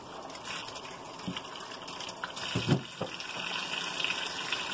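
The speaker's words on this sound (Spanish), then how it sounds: "ahora ya que tallamos toda nuestra verdura, vamos a enjuagarla y la vamos a dejar escurriendo" Chopped vegetables rinsed under a running kitchen tap, a soft steady stream of water with faint splashes and light knocks, fairly quiet throughout.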